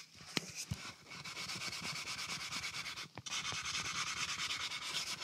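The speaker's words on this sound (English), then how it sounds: "A bit of an old Scotch-Brite pad. That way, it should sort of really help work it into the grain as well." An old Scotch-Brite pad rubbing finish into the grain of a dovetailed wooden piece, making a steady, close, rhythmic scrubbing with quick back-and-forth strokes and a brief pause partway through.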